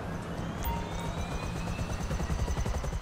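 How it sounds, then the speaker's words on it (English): A helicopter in a video game drones steadily with a fast rotor chop and a faint rising whine, close and continuous for a few seconds with no talk. "I'll call my helicopter my CEO helicopter"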